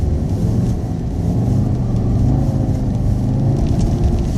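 A car on Continental Extreme Winter Contact tires, run at 36 psi with traction control off, accelerates hard from a stop sign, its engine a loud, close, continuous rumbling roar that holds steady throughout.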